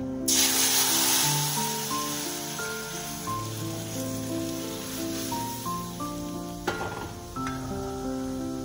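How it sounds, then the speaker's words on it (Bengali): Boiled dal is poured into a hot pan and sizzles loudly and steadily at close range, with a sharp hiss at the start and brief clatters of utensils partway through. "এবারে যে সেদ্ধ করে রেখেছি ডালটা এর মধ্যে দিয়ে দিচ্ছি।"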